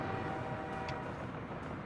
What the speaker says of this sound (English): it means the container train is going